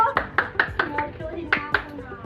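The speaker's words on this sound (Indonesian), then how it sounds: "Tepuk tangan dulu." Hand clapping in a primary school classroom during a grade four social studies lesson: about eight sharp, slightly irregular claps close by, fairly loud, with a faint murmur of voices underneath.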